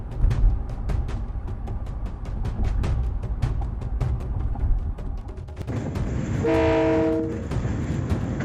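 A train rumbles past with rapid rhythmic clatter of wheels over rail joints, then a loud sustained horn blast near the end over the continuing roar; no voices.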